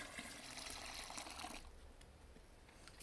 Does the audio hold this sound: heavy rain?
no